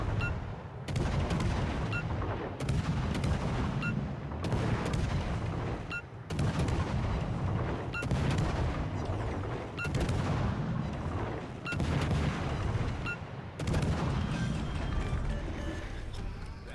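Warship main guns in World of Warships: Legends fire at an enemy cruiser in regular heavy salvos about every two seconds, each a loud booming blast with rumbling decay, repeated throughout.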